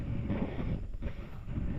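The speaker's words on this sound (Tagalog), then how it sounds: "Ang hangin ngayon eh, habagat," Southwest monsoon wind blows across a farm at breakfast time, a steady low rumble with gusts buffeting the microphone for the whole stretch, with no voices.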